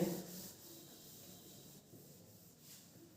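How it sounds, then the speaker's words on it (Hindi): Erasing writing on a classroom board: a soft continuous scrubbing and rubbing sound, faint and close, lasting a few seconds without any talk. "इसको रब कर दें।"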